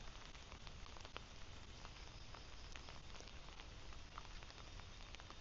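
Morning rain falls steadily in Phuket, Thailand, a soft, even patter of drops on surfaces that carries on without pause and without voices.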